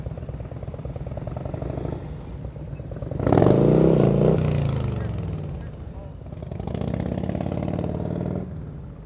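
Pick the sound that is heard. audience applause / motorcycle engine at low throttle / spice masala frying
motorcycle engine at low throttle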